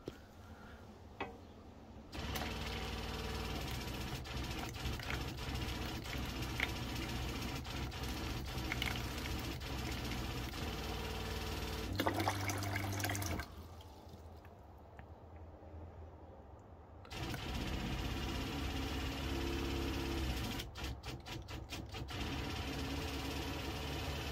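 A Shurflo RV water pump runs steadily after a pressure adjustment, a low mechanical hum with faint ticking that cuts out briefly midway and then starts again, close up with no talk.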